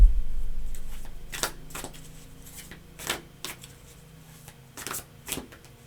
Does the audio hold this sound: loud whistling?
no